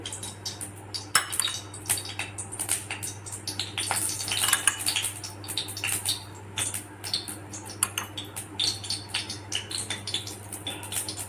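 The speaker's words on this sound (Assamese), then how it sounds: "মই চামুচখনেৰে ইয়াত 4-5 চামুচ ৰিফাইন তেল দিলোঁ।" A spoon scraping and clinking against a kadai while refined oil is added, a series of small metallic taps and knocks over a low steady hum, close and fairly quiet.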